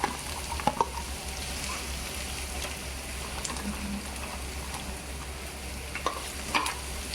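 Onion sizzles in a pan with ginger, garlic and green chili, a steady close crackle of frying broken by occasional clicks and scrapes of stirring.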